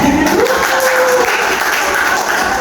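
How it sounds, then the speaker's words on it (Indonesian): A classroom of students clapping together during a microteaching lesson, a loud, even burst of applause with a brief voice rising over it near the start. "Oke, tepuk tangan kita."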